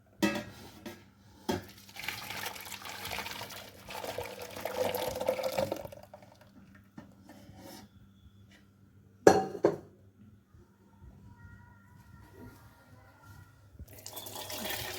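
Cooked lentils for haleem tipped from a pressure cooker into another cooking pot in a home kitchen: scattered wet slops and metallic clanks of pots, a sharp knock midway, and quiet gaps between, fairly close but soft.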